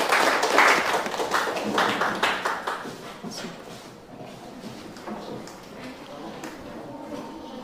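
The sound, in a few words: applause for group 3 in a classroom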